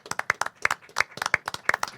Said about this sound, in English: Please, folks, let's give him a round of applause.